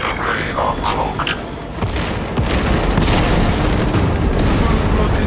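A cooling rod blown apart in Space Marine 2, a loud roaring boom with crackling debris and sustained rumble filling the whole stretch amid battle noise, with a voice speaking over it.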